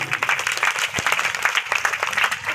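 Audience applause at a Shrimad Bhagavat Katha religious discourse, with dense, steady clapping running through the whole stretch, fairly close and without speech over it.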